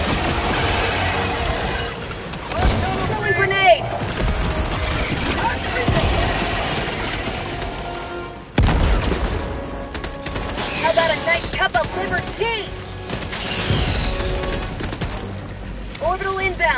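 Heavy cannon and weapon fire in the Helldivers 2 video game, repeated booming blasts and bursts of gunfire with crashing impacts, under shouted in-game voice lines.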